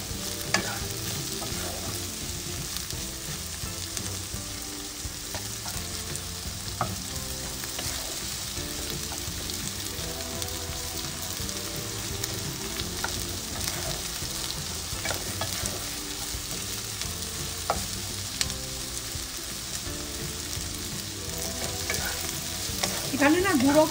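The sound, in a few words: onions frying in a pan for kung pao chicken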